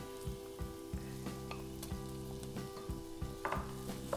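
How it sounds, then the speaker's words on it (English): Lamb mince sizzles as it fries in a pan, a soft, fairly quiet crackle with a few small stirring knocks, nobody speaking over it. "We just add this straight into the pan"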